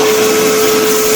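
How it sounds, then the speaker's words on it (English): A big XL Hoover vacuum cleaner drones steadily and loudly, with a constant hum, as it cleans construction mess off a tiled floor inside a building. "GB got his another Hoover, big XL one."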